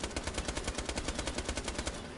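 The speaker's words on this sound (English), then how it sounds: "most of the gun sounds in this game have an echo" Rapid automatic video game gunfire from Borderlands: The Pre-Sequel rattles in a fast, even burst lasting a couple of seconds, sharp and echoing, with no other sounds.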